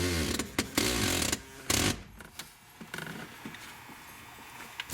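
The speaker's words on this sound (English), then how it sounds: "So now we're going to run a screw with the washer on it." A screw with a washer is driven into a rear center console in a Camaro or Trans Am. Close, loud bursts of whirring driving come in short spurts, then quieter intermittent clicks and taps.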